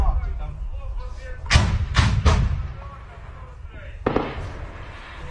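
Artillery fire in a wartime position in Ukraine: several heavy booming thuds in quick succession, then another distant-sounding blast a couple of seconds later over constant outdoor rumble.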